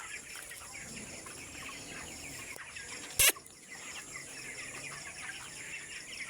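Chickens on a poultry farm cluck and call steadily throughout under the hum of ventilation fans in the shed, with one brief loud clatter near the middle.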